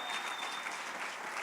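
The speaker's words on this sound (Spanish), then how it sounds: "denles ofrenda de palmas al Señor" A church congregation claps steadily as an offering of praise during a Friday evening sermon, a dense, even wash of applause filling the room from start to finish.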